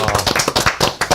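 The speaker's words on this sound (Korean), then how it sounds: "이런 이야기해서 우리 박수 한번 보내요." Studio guests on a Korean political talk show clap together, a brief burst of close, quick hand claps with a few uneven overlapping beats.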